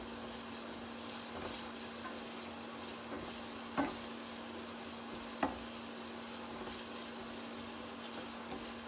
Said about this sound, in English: So while we're waiting for the onions to fry up a little bit,